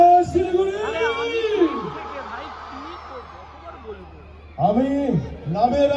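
A crowd at a Siliguri film event for the Bengali movie Khadaan whoops and yells in bursts, with a loud amplified announcer shouting over the cheering near the start and end.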